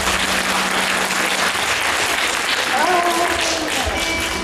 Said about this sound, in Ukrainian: дякуємо їм за це аплодисментами